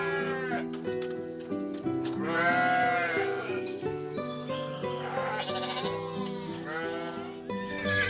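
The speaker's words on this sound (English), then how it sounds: "Goat." A goat bleats repeatedly in wavering, drawn-out cries over a steady background of music, close and fairly loud throughout.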